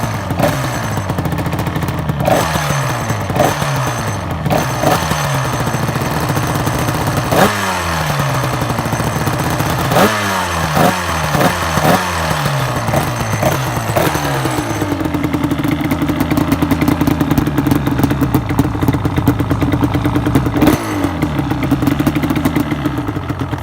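A Yamaha Banshee 350 two-stroke quad engine revs hard in repeated sharp bursts, pitch climbing and dropping between throttle blips, then holds a loud rough idle-to-high rev near the microphone with no talking.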